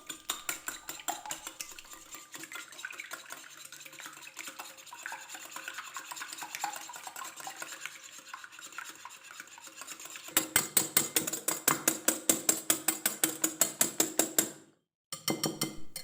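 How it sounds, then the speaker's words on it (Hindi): Three eggs are whisked to a foamy texture, giving a fast, steady scraping rhythm of utensil against bowl. The whisking starts softer, turns louder and quicker near the end, pauses briefly, then resumes. "इन एग्स को फोमिंग टेक्सचर होने तक अच्छी तरह से बीट करना है"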